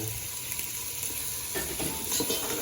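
Boiled broth is poured into a pot of arroz caldo, giving a soft continuous splashing and hiss close by, fairly quiet and unbroken.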